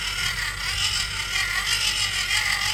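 A hand-cranked generator is turned steadily, giving a continuous whirring, gear-like mechanical drone with faint creaks, close and even throughout.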